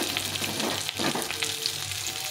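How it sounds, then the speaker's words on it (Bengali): Pointed gourd pieces fry in a pan with a constant close crackling sizzle and occasional stirring, no voices. "পটলটা একটু ভালো করে ভেজে নিতে হয়"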